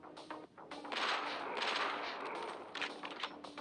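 Rapid automatic rifle fire in the mobile shooting game Johnny Trigger, a burst of fast repeated shots that is fairly faint and sustained for a few seconds, no talk.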